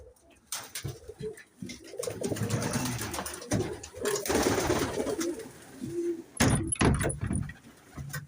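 Pigeons coo outdoors on a cold, windy Sunday, their low murmuring calls running nearly throughout at moderate loudness, with a few sharper knocks and a brief high squeak near the end.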